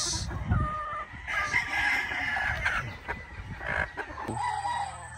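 Game fowl pullets of the pure golden boy sweater line on a game farm, with a rooster crowing loudly nearby over steady clucking and general flock noise.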